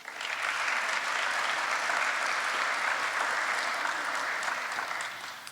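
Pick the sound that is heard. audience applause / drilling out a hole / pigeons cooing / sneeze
audience applause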